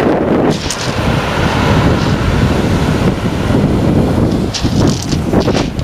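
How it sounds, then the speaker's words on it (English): Strong wind buffets the microphone in a constant loud roar on the coast at Portland near Weymouth, UK, with gusts rising and falling throughout and no voices. "It's windy weather."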